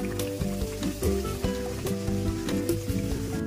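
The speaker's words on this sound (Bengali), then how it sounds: "তেলটা আমার গরম হয়ে গেছে, এইবারে এক এক করে আমি কচুরিগুলো ছেড়ে দেবো।" Sattu puris are dropped one by one into hot oil and fry with a steady sizzle, punctuated by soft splashes, beneath tonal background music.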